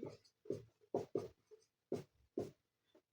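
Pen or pencil strokes on paper while working a maths problem by hand, a series of short, distinct scratching bursts with brief pauses between them, close and fairly quiet.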